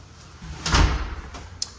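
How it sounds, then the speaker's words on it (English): A pantry double door in a newly built house swings open or shut, giving one muffled thud with a short scrape and a faint click at the end, all in a quiet room. "This is the designated pantry. So just lots of storage in here. This is a double door."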